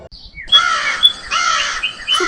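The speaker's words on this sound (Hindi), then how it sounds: "सुबह उठकर चीकू कौवा बोला" A cartoon crow caws in a few harsh, raspy bursts, loud and close, with short gaps between the calls.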